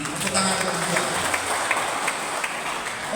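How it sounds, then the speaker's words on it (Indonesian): Applause from an audience at a business presentation, a dense wash of clapping with people talking faintly underneath throughout. "Tepuk tangan kedua."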